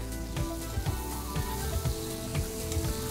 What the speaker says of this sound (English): So I have an electric griddle here, and I'm just gonna brush it. I have some melted butter.